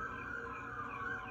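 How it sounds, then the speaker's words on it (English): A faint ambulance siren wails steadily in the distance, its tone wavering slightly over a low background rumble. "Y'all hear the ambulance"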